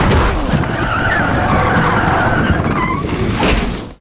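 A car skids with a sustained, loud tire squeal for about four seconds as it loses control before crashing into another car; no voices are heard.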